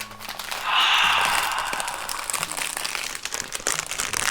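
The plastic wrap and packaging of an iPhone 12 Pro Max box tears and crinkles up close, a loud rip followed by continued scratchy rustling.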